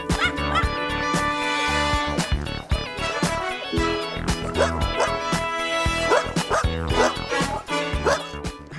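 Many abandoned dogs at a large rural animal shelter bark, yip and whimper together in a loud, continuous, overlapping chorus.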